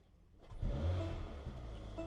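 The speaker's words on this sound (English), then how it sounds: "So it did rev just slightly higher. It almost like kicked the gas when it started up." A 2024 Mercedes-AMG GLA 35 starts up with a sharp low-frequency surge that kicks into a brief rev, then settles into a steady, fairly loud idle.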